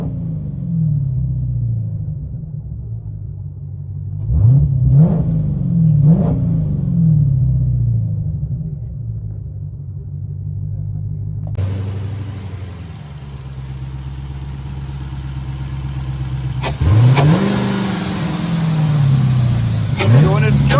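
A 2019 Dodge Challenger Hellcat Redeye with a 6.2L supercharged V8 and straight-pipe dual exhaust idles with a deep, loud rumble and blips the throttle in several sharp revs, with someone talking over it.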